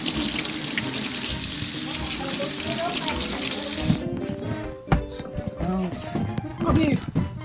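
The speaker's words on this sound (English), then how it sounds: "Wash my hands first." Water pours from a running tap as hands are washed under it, a strong steady hiss that cuts off midway, followed by kitchen clatter and voices talking.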